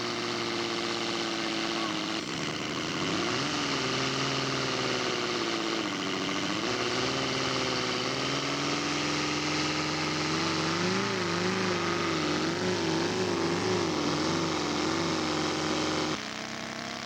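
Engine of a Fokker scale model aircraft in flight at an outdoor model show, a steady buzzing drone lasting throughout with gently wavering pitch as it passes overhead, with faint voices in the background.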